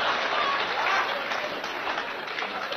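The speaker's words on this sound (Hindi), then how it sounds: "इस स्कीम पर तो बुजुर्गों ने सबसे ज्यादा तालियां बजाई" An audience applauds with soft, continuous, fairly distant clapping that holds steady throughout, with faint voices mixed in.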